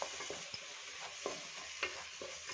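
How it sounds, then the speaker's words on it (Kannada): Carrot holige filling stirred in a pan, a spoon scraping in several distinct strokes over a low, steady sizzle, close and moderately quiet, with no talking. "ಈಗ ಮತ್ತೆ ಚೆನ್ನಾಗಿ ಮಿಕ್ಸ್ ಮಾಡ್ಕೊತೀನಿ"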